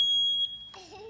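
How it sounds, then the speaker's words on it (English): A single high, piercing electronic beep from a smoke alarm holds steady for about half a second, then stops as faint chatter and a voice follow. "Check your smoke alarms."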